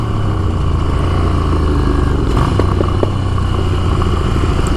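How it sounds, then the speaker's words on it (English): A Ducati motorcycle engine idles steadily at close range, a low continuous rumble with no talk over it. "there is a fun little motorbike"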